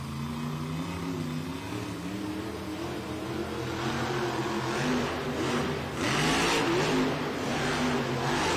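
El Toro Loco monster truck engine revving in an arena, a throaty rising and falling growl that swells louder toward the end amid crowd noise.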